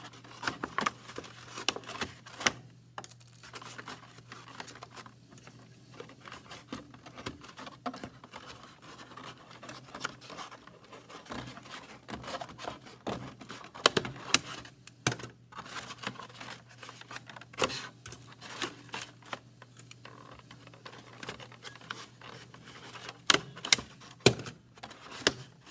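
Staples being driven through a painted paper color wheel about an inch from the edge, heard as a long run of sharp, irregular clicks and snaps, close and fairly quiet, with no talking.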